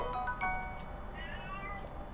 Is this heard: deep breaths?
no